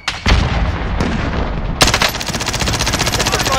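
Call of Duty Warzone gunfire in a Payload match: a loud, sustained rattle of automatic fire with sharp bursts, a brief lull, then a renewed dense volley close by.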